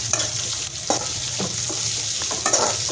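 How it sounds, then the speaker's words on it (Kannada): Green chillies, grated ginger and curry leaves frying in a pan for shavige uppittu, a steady loud sizzle with repeated scraping stirs of a spatula cutting through it at close range. "ಅಲ್ಲಿಂದ ಸ್ವಲ್ಪ ತುರಿದಿರೋ ಶುಂಠಿ, ಕರಿಬೇವಿನ ಸೊಪ್ಪು ಇಷ್ಟನ್ನ ಹಾಕ್ಕೊಂಡು ಚೆನ್ನಾಗಿ ಫ್ರೈ ಮಾಡ್ಕೋಬೇಕೀಗ"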